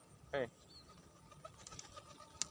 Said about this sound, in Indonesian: Ini merpati saya.